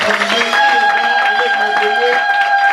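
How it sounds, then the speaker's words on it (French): A church congregation applauds loudly during a morning worship service, steady clapping running throughout beneath singing or raised voices with sustained tones. "Alors applaudissons très fort pour ce Dieu là."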